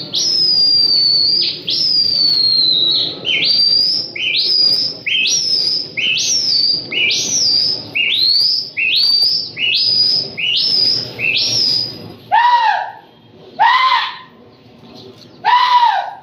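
Repeated high, sweeping whistled calls in a rapid series, then a few lower swooping calls after a pause, from a flock of pigeons being flown for show, with a faint background hum.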